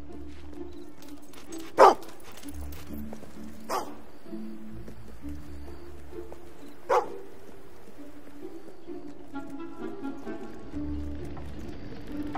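A dog in the video game Fable II barks three times, with short, sharp, widely spaced yaps over a low, steady ambient game soundtrack.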